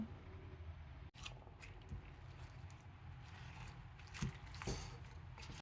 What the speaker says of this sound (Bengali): এবার সব উপকরণগুলোকে আমি ভালোভাবে নেড়ে চেড়ে নেব।